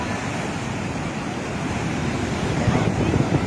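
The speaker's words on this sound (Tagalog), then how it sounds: "Grabing lakas ng alon, hindi tayo makaligo mga idol." Heavy monsoon surf roars continuously with wind buffeting the microphone, a dense, loud wash of crashing waves building toward the end.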